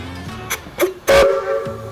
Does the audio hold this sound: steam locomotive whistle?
yes